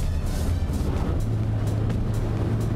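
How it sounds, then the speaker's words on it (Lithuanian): An MG EHS hybrid car accelerates with the throttle floored, yet only a low, subdued engine hum and road noise rise inside the cabin, steady and fairly quiet with no one speaking. "važiuoju ir užminsiu gazą iki dugno"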